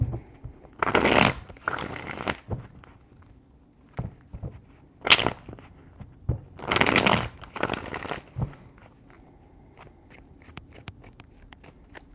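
Tarot cards are shuffled by hand in a few loud, crisp riffling bursts with quieter handling between them, close and without talk.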